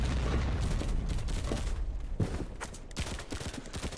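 Rapid AK rifle gunfire in a video game, a dense burst of loud shots running continuously with sharp cracks and booms, no talk over it.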